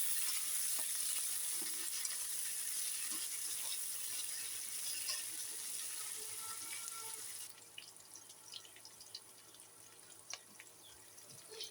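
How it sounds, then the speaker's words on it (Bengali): Chopped onion, garlic and green chili sizzle as they are stirred in hot oil, a steady loud hiss that drops to a quieter crackle partway through, with scattered clicks and spatula scrapes. "এই যে পেঁয়াজ কুচি আর রসুন কুচি, কাঁচামরিচ একসাথে দিয়ে নাড়া দিব।"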